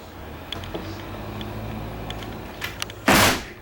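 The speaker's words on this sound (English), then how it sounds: "I'm going to close this door." Door of a Cougar 2100RK travel trailer, a 2023 model, swung shut after a few light knocks and clicks, ending in one loud close-up thud in an otherwise quiet interior.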